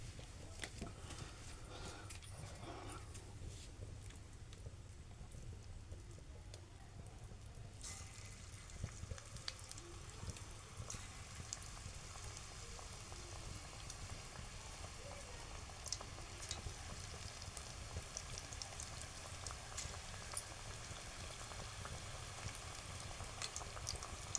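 Colocasia leaf bhaji frying in hot oil, a steady broadband sizzle and crackle that runs throughout at moderate level, getting brighter and more intense after the first few seconds, with no speech over it.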